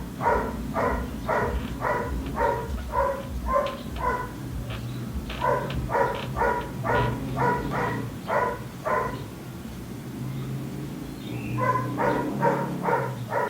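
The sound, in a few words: dog barking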